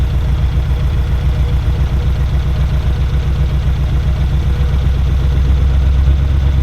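A Ferrari 308 engine idles steadily with a low, rumbling drone, its pitch shifting slightly as the revs change and a previously dead cylinder starts firing, with no talking.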